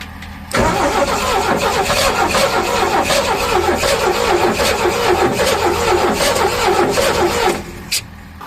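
A 1969 Chevrolet C10 pickup that sat for 23 years cranks and catches, its engine running loud and rough at close range for several seconds before cutting off abruptly.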